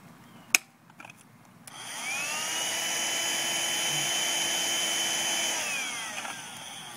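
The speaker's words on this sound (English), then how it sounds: "Vacuum those suckers." A vacuum cleaner used to suck squash bugs off garden plants starts after a couple of clicks and knocks, then runs as a loud, steady close whine for several seconds before beginning to wind down.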